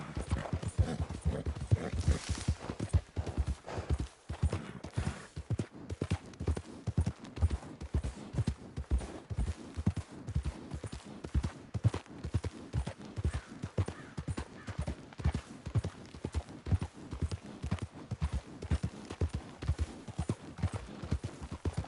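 Horse hooves in the video game Red Dead clip-clop at a steady walking rhythm, a long continuous sequence of hard knocks with a brief whinny near the start.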